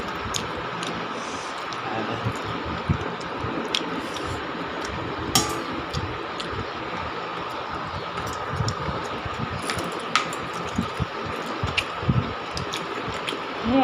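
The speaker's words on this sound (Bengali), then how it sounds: "তেলের মধ্যে ডিমের তরকারি ঢেলে নিচ্ছি।" Fish roe curry poured into hot oil in a pan, giving a continuous close wet sizzle and crackle with scattered sharp pops throughout.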